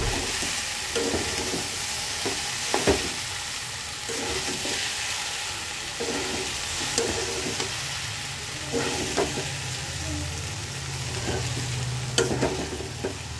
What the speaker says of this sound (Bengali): তো চলো এই নুডলসটা আমি দিয়ে দিলাম। এখন এটাকে সুন্দর করে মিক্সড করব।